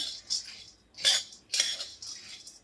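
A spoon scrapes and clinks against a pan while stirring charoli nuts roasting over medium heat, three or four brief metallic strokes at an uneven pace, close and fairly soft, with no voices.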